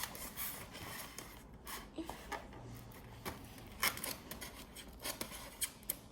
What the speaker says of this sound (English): So we're just going to cut along here.